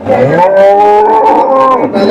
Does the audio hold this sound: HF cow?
yes